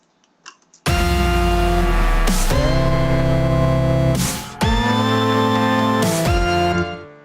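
A synthesized music track plays without its parametric note effect, with sustained synth chords changing a few times over several seconds. The chords are loud and heard alone after a quiet start.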